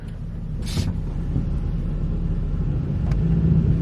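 An ATV engine in four-wheel drive climbs a trail, giving a loud, close, steady low rumble that builds slightly toward the end.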